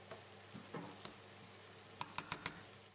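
Aubergines fry in a pan with oil and butter, giving a quiet, steady sizzle with a few soft clicks and taps of a utensil against the pan near the end.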